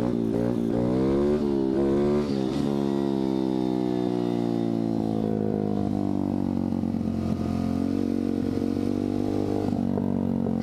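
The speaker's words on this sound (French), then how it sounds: "Vous entendez bien le bruit de la moto." A 125cc dirt bike engine revs hard and close, its pitch climbing in repeated surges and then holding a high, strained drone, loud and alone with no talking.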